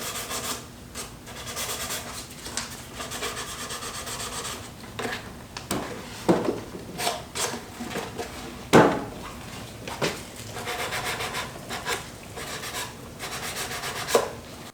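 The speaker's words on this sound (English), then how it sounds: "We'll give it a quick sand." Close rubbing and rasping of sandpaper on the freshly attached bottom rails of a wooden Christmas tree planter box, in irregular strokes with a few sharper knocks along the way.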